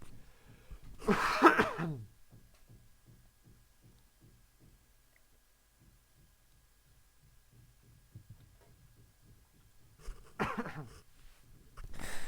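Two bursts of coughing separated by a long stretch of near quiet with a low hum, each cough close and fairly loud.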